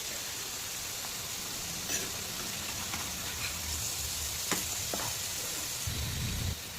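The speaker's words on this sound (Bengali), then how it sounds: "পনিরটা আমাদের ম্যারিনেট হয়ে গেছে, এবারে এটা ভেজে নেব।" Marinated paneer fries in a pan of oil with a faint, steady sizzling hiss, broken by a few small pops and crackles throughout.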